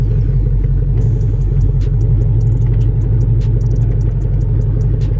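A Pontiac Grand Prix GXP with a loud exhaust runs steadily close by, a deep continuous rumble that fills the clip, with faint clicks and ticks above it.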